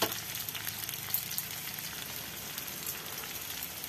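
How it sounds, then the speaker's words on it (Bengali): Chopped onion, garlic and green chili frying in oil, a quiet, steady sizzle with soft spattering crackles running evenly throughout. "পেঁয়াজ কুচি, রসুন কুচি, কাঁচা লঙ্কা কুচি দিয়েছি। একটু লাল লাল হয়ে গেলে সয়াবিন পেস্টগুলো দিয়ে দেবো।"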